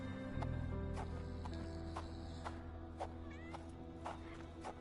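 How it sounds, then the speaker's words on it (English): A cat meowing in the video game Sherlock Holmes: The Awakened, a few short faint meows over a steady droning musical background with no speech. "Do I hear a cat?"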